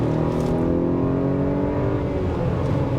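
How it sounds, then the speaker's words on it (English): A 2023 Acura RDX A-Spec Advance SUV accelerates hard under full throttle while driving, its engine note climbing steadily and loud from start to finish, with no talking. "Let me see if I lay down on it while driving, see how it's gonna accelerate here."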